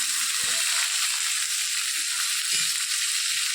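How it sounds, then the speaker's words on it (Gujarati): Cinnamon stick, a cardamom pod and bay leaf sizzle in hot oil, a dense, constant frying hiss close by with a few soft knocks of the pan underneath. "તજનો ટુકડો, 1 એલચી અને તમાલપત્ર. બધું આપણે સરસ તેલમાં નાખી દીધું છે."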